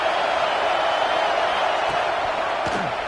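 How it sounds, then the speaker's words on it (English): Stadium crowd roaring at an Oregon vs Nebraska college football game: a steady, dense wash of cheering and noise that holds at the same loudness for the full few seconds, with no break. "Listen to the crowd energy here in the early going."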